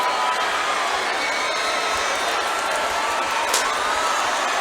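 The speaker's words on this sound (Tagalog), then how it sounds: "Crowd enjoying the energy." A steady, dense crowd roar fills a basketball finals game, continuous and moderately loud from start to finish, with no clear voices standing out.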